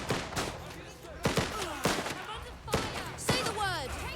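Gunfire crackles through a firefight in a video game, with sharp shots in irregular bursts among several loud bangs and voices talking over the fight.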